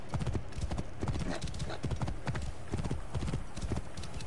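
Horse hooves clip-clop in a steady galloping rhythm inside Assassin's Creed Origins, close and continuous, with faint game ambience and occasional low snorting.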